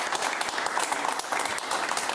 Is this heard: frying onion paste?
no